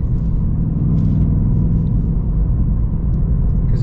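The 5.0 V8 of a 2024 Ford Mustang Dark Horse with a manual gearbox gives a loud, steady, deep engine rumble, heard from close by with no voices over it.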